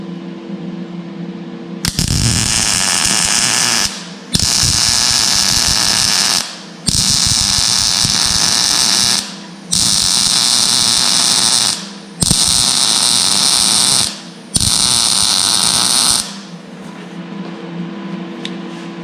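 An Eastwood MIG 175 welder laying beads on thick metal, six loud crackling buzzing bursts of a few seconds each, separated by brief pauses, close up in a garage.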